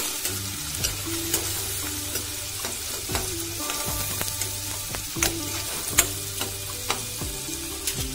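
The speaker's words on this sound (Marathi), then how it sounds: "हिंग टाकणार आहोत, थोडं मिक्स करून घेऊया" Asafoetida being stirred into mixed vegetables frying in a pan: a constant sizzle with a spoon scraping and tapping the pan in an irregular rhythm, close by, no voices.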